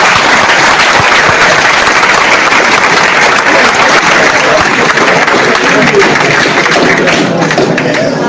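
Scattered audience applause at a Hindi lecture hall talk, a steady loud wash of crowd noise and clapping that holds throughout without pause.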